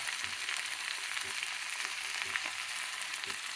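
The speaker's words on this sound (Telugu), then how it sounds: "ఇది పచ్చి వాసన పోయే వరకు వేయించుకోవాలి" Ivy gourd (dondakaya) frying in a pan for chutney gives a steady, close sizzle with soft crackles throughout and no talking.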